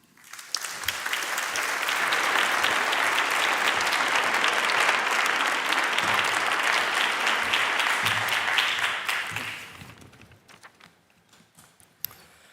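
Sustained audience applause at the European Green Capital and Green Leaf awards ceremony, swelling quickly to a full, dense roar of clapping that holds steady before fading out to scattered claps and quiet.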